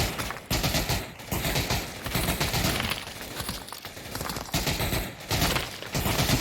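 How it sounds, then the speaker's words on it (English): Gunfire traded back and forth in the VR shooter Pavlov during a competitive match, dense bursts of shots overlapping throughout with brief lulls, loud and close. "Trading fire with Yellow Hat."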